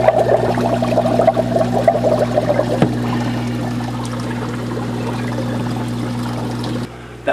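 Water percolates and bubbles through an aquarium algae scrubber fitted with LED lights and strings for growing algae, a steady trickling gurgle with a low electrical hum beneath, close and continuous with no talking.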